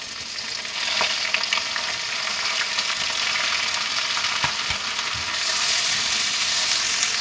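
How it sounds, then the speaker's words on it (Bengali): Onion paste fries in ghee in a pan with a continuous close sizzle and crackle, stirred now and then, and the hiss grows stronger near the end. "ভালো করে পেঁয়াজটা ভেজে নেব।"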